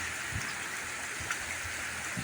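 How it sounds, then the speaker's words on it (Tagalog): Strong floodwater in a river sweeps along coconuts, a constant rushing, hissing flow heard at a moderate, steady level with a few faint low thumps beneath it. "Dinadala na sa malakas na tubig."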